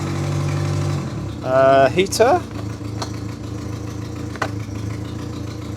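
A Renault 6 engine idles with a steady low rumble and rises slightly in revs, while someone talks over it close by.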